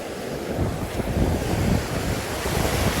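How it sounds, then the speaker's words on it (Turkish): Strong wind roars and buffets across the microphone on a wavy shore while fishing, with the wash of sea surf underneath; continuous and loud, no voices. "Rüzgar çok ama arkadaşlar"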